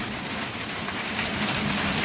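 Heavy rain pours steadily on farmland during an unseasonal storm with hail, a dense continuous hiss close by with no voices.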